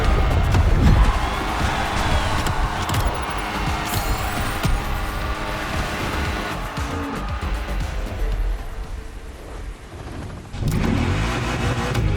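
A Lamborghini in The Crew Motorfest racing game roars and revs continuously and loudly through a mountain drive, with the engine note rising and falling over about twelve seconds.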